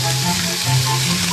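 Food pan-fries in butter on reduced heat, making a close, steady sizzle and crackle that fills the short moment without any talk.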